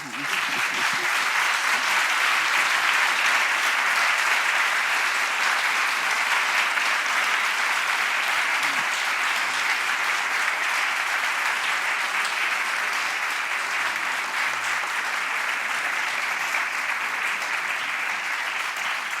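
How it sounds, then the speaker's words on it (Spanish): Audience at a cultural evening event giving sustained, even applause, dense clapping from many hands continuing steadily throughout with no speech over it. "es una hora buena para darles un aplauso estupendo"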